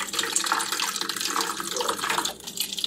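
Tap water pouring into a large daily water bottle, a continuous splashing rush, close and fairly loud, with no voices.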